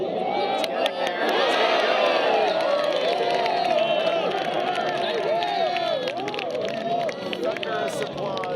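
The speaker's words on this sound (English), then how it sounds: "Thunderous applause as Hankyung has her fourth birdie." A golf gallery at a women's professional tournament cheers and whoops steadily after a birdie putt drops, with a commentator talking over the crowd noise throughout.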